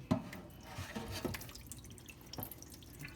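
Juice drains from a can of green beans for a tater tot casserole, producing faint splashes and irregular drips into a sink, close by with soft kitchen background.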